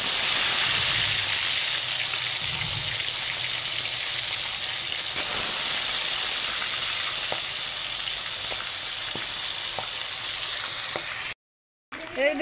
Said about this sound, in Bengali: গরম হয়ে গেছে, এখন মাছগুলো আমি এক এক করে ভেজে নেব।